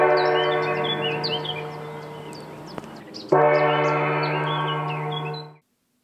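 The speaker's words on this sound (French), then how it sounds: "J'ai vaguement entendu une cloche après." A bell at a Buddhist monastery in France rings with a long resonant tone that slowly decays, then is struck again with a second sustained ring that fades out, with faint bird chirps in the background.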